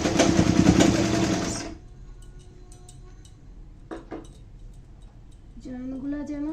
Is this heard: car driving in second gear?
no